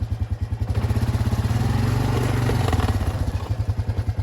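A four-wheeler ATV engine chugs close by with a fast, steady pulsing beat, rising slightly in the middle while driving through muddy Texas ground, loud and without speech.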